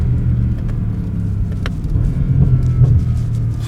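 A Bentley Continental GT Speed with a 4-liter V8 accelerates, giving a loud, steady low engine rumble heard close and continuous throughout, with no one talking.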